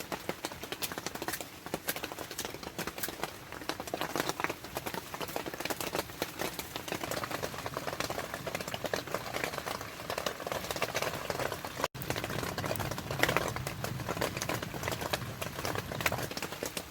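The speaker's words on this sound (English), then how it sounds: "So the rain has not stopped." Steady, dense rain patters continuously, loud and close, like drops drumming on a hard surface, with no voices.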